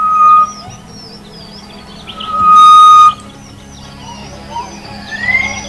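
A recorded South African bird call plays back from a field guide in short whistled bursts, with a louder sustained whistle in the middle, over a faint background hum.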